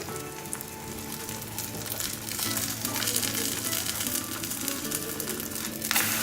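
A Shahi pancake fries in a hot pan with a steady, close crackling sizzle that holds even throughout, with no voices over it.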